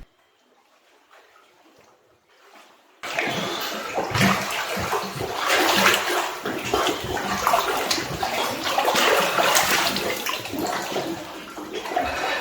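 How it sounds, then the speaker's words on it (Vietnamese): Water sloshes and slaps against rock inside an underground sea cave in Tonga, starting abruptly after a quiet opening and then continuing as a loud, steady churning wash with irregular gurgling bursts. "Các bạn có nghe tiếng sóng hoặc tiếng nước nó đập vào đá, nghe bục bục bục bục bục"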